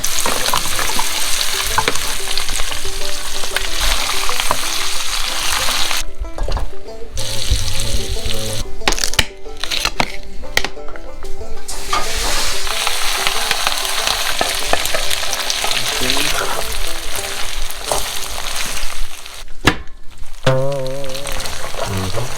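Pork and onion sisig fries and gets stirred in a pan, a loud continuous sizzle broken by scraping utensil strokes and brief gaps, with a running-water sound mixed in, close up and without talk.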